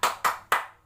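A teacher gives three sharp, evenly spaced hand claps in a quick rhythm as a classroom cheer, each clap close and crisp with a short ringing decay.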